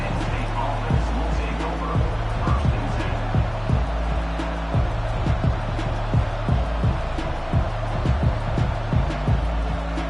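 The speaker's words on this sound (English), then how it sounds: "This crowd bringing the energy and noise early." Stadium crowd noise in a college football video game, a steady loud roar with thumping beats, under play-by-play commentary.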